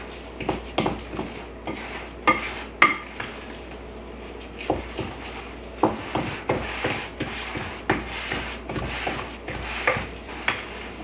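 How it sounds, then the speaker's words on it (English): A wooden spoon stirring shaggy gluten-free biscuit batter in a bowl, with steady rhythmic thuds and scraping strokes repeating at a close, moderate volume for several seconds. "I always find it so helpful to use a wooden spoon when you're mixing a batter like this"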